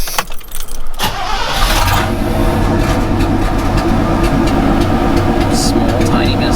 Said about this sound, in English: let's go see how she sounds when we start it up